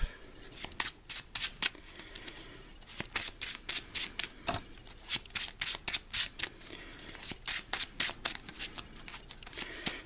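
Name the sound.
shuffling a deck of cards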